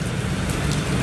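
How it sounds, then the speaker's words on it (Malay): Steady rain falls over the city outside a 27th-floor hotel room at Dorsett Hartamas in Kuala Lumpur, a continuous even hiss with faint traffic rumble beneath. "Nampak tak guys? Hujan kan?"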